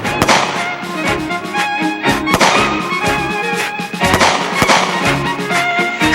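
Gunfire at an army shooting competition for company commanders and political instructors: sharp, heavy reports crack out one after another in irregular bursts over a tonal backdrop, loud and close.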